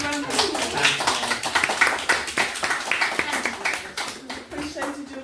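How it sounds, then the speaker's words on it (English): Applause from an audience at a school assembly for a Paralympic tennis player, with clapping that is loud and fairly steady but a bit uneven, and some individual hand claps standing out for about five seconds. "Let's give her a big round of applause."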